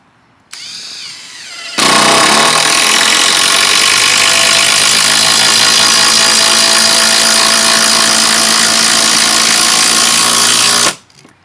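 A Makita DTD171 impact driver sinks a 200mm 14-gauge galvanized batten screw into decking without a pilot hole, starting slow, then hammering loudly at full speed for about nine seconds before stopping.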